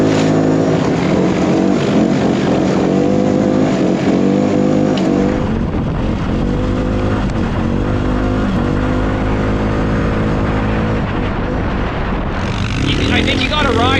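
CFMOTO side-by-side UTV driving off-road over rutted ground, its engine droning loud and steady with gear and revving shifts, up close throughout.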